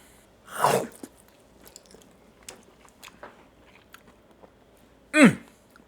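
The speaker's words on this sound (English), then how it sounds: "it's time to give them the old-fashioned chomp" Crunchy bites into crispy smoked and fried honey sriracha chicken wings, one loud close crunch near the start and another near the end, with faint chewing sounds between.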